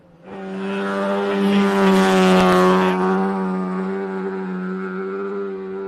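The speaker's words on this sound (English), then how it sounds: "Certainly another iconic sound of New Zealand rallying, isn't it, the Rotary?" A Mazda RX3 rally car with a rotary engine passes at a New Zealand rally stage, Rally Otago, its loud, buzzing engine tone swelling up close, then fading steadily as it pulls away, with no talk over it.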